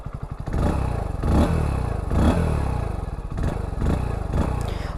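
A Hero Splendor 2025 motorcycle with an OBD 2B engine starts up and settles into a loud, close, thumping idle, with a few throttle blips swelling and easing across the run.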